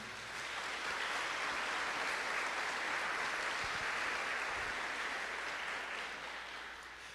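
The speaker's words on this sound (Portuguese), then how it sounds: "Vamos aplaudir a palavra do Senhor." Church congregation applauding after a Bible reading: a sustained wash of many hands clapping at a distance, steady and even throughout before tapering slightly at the end, with no speech.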